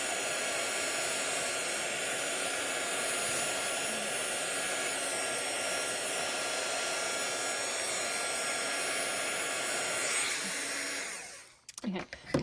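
A handheld heat tool blows on the back of painted designer paper, a loud, steady close whir that runs unbroken for several seconds, then cuts off with a few small handling knocks at the end.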